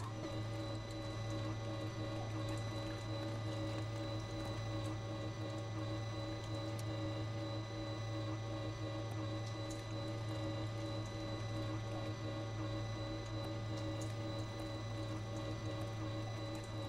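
An electric meat grinder runs for sausage making, giving a steady, loud mechanical hum with a constant whirring drone and faint rattling throughout, unbroken from start to finish.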